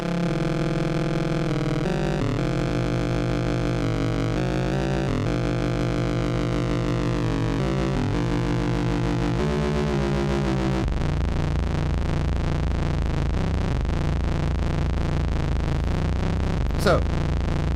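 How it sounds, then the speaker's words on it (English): Synthesizer oscillators with no LFOs applied, sustained harmonic tones slowly beating against each other as the pitch shifts, steady and continuous, with a brief sweeping chirp near the end. "So what you're hearing is just these slight harmonics sort of beating with each other."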